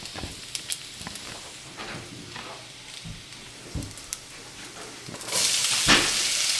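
Chopped onion drops into hot rendered bacon fat for a breakfast hash. A few faint clinks and taps come first, then a sudden loud burst of sizzling near the end, close by with no talk.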